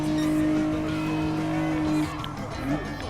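A Renault Clio V6 race car engine in Gran Turismo Sport, a steady loud droning whine holding pitch before easing off and rising again briefly near the end, with a voice talking over it.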